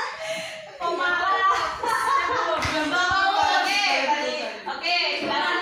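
A group of Indonesian students plays the tepuk malam clapping rhythm game, chanting together while patterned claps sound through the group's voices, close and continuous with some laughter.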